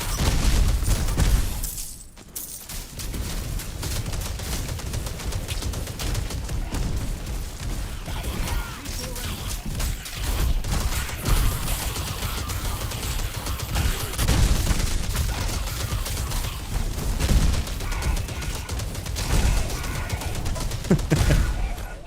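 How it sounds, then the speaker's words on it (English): Dense, rapid mini explosions crackle and pop almost without pause in the action RPG Titan Quest 2 during a fire-ignite spin battlemage fight, loud and continuous over the whole stretch with only a brief dip near the start. "the little mini explosions are so great"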